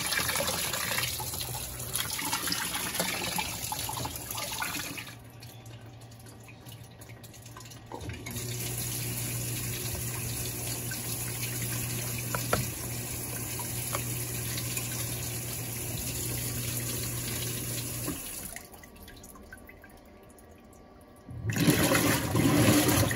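A Whirlpool Vantage top-load washer (WTW7990XG) sprays water into its fabric softener dispenser, a steady rushing flow that stops and restarts across twenty-plus seconds, with a faint hum between bursts and no talk.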